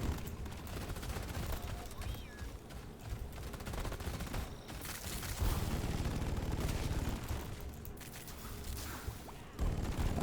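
Rapid bursts of plasma carbine fire from the Drak weapon in Deep Rock Galactic, a dense continuous stream of shots with short pauses, loud and close, over busy game noise.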